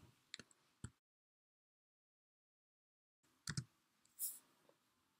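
A few sparse clicks from a computer keyboard as someone types a quiz answer into code, with short bursts of keystrokes separated by a long silent gap.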